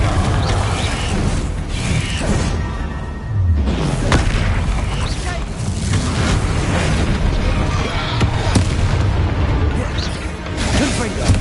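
Confringo fire spell blasts in the wizarding game Hogwarts Legacy, loud booming explosive bursts amid dense continuous combat noise and mechanical clatter, with a voice speaking over the action.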